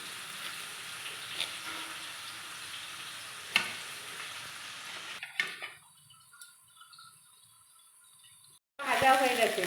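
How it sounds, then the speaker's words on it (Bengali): Potatoes frying in oil in a home kitchen, a continuous sizzle for several seconds that fades to a quieter background with faint clinks, then a louder burst of sound at the end. "যতক্ষণ আলুটা ভাজতে টাইম লাগছে"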